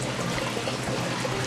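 Water trickles into an aquaponics external siphon, a steady close stream of pouring and dribbling that runs with no pause and no talking.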